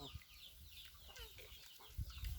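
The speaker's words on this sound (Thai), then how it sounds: "ไก่" A chicken clucks in short bursts at low volume, with faint background noise and no speech.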